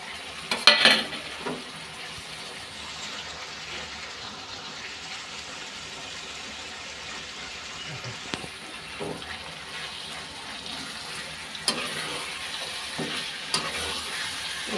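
Garlic and onion paste frying with half-cooked meat in a pan, a steady sizzle with intermittent stirring scrapes and clatter, including a louder knock near the start.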